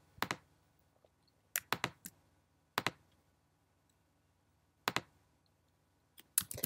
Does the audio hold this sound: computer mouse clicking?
yes